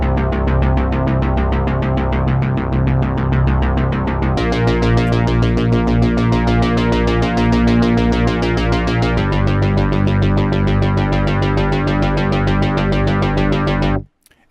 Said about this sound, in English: So I've got a bass lead, mid bass, and a sub bass.